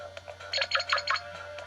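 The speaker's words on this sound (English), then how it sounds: "Yeah, that's the sound of a special item." A special item dropping in the Windows audio game Troopanum 2 gives a short chirpy electronic jingle of quick bright beeps, repeating in a rapid rising-and-falling burst over a low steady hum.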